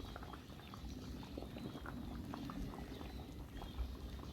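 Taro stems boiling in a pot as pig feed make a steady, close bubbling and churning with scattered small pops and knocks, with no voices.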